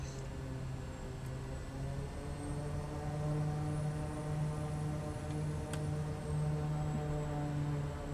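Cessna Grand Caravan turboprop engine in Microsoft Flight Simulator, a steady loud droning hum with tonal harmonics holding level throughout, no talk over it.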